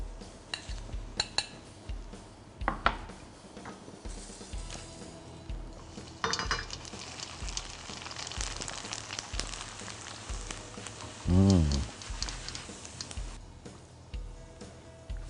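Steady crackling sizzle of fish frying over high heat in hot oil, with occasional clinks of utensils against a pan close by.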